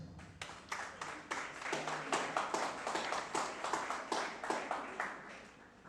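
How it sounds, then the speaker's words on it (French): Graduation ceremony audience clapping for a speaker as he is invited up, a steady, moderately distant round of hand claps with uneven rhythm and no voices. "Vous êtes priés de l'applaudir, bien sûr"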